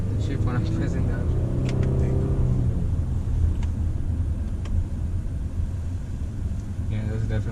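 A 2019 Honda Pilot Elite AWD engine hums and rumbles steadily from inside the cabin while driving, a low continuous drone with a brief swell of throttle early on, heard under road noise.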